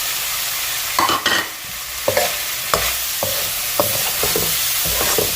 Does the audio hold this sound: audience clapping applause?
no